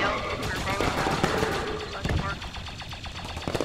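Rapid automatic gunfire in the Star Wars game Galactic Contention during the Battle of Kashyyyk, dense bursts of shots sounding continuously and close, with some sharper cracks toward the end.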